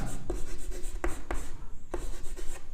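Writing on a classroom board, with several distinct tapping strokes and scratches spaced irregularly, close and clear over a low background hum, with no speech.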